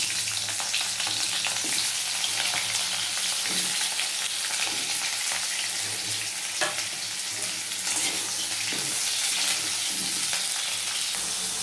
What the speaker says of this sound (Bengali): আলুগুলো লাল লাল করে ভেজে নিই